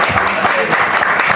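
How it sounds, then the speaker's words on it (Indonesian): An audience claps together at a political gathering, a dense burst of applause filling the short moment at full loudness. "Tepuk tangan"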